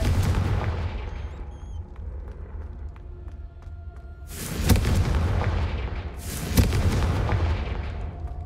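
Blasting spell explosions in Hogwarts Legacy: two heavy booming blasts a couple of seconds apart, each with a sharp onset and rumbling decay, over constant low game ambience and faint tonal effects.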